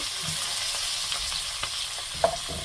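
Fish pieces stir-fried in a pan for a spicy curry give a steady, soft sizzle with a few scraping stir clicks and one sharp knock near the end, all fairly quiet and without talk.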